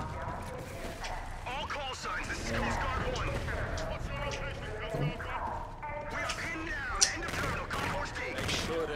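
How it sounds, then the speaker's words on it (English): Gunfire in the video game Call of Duty: Infinite Warfare, a busy fusillade of shots mixed with shouting voices and combat noise, dense and continuous throughout with one sharper crack near the end. "They're shooting civilians."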